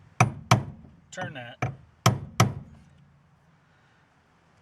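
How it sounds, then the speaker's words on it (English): A brass hammer strikes a brass punch on a ring in a 2004 Honda Pilot, giving six sharp metallic taps in uneven pairs that ring briefly, with a short spoken remark between them. "use is a brass punch and a brass hammer to try to"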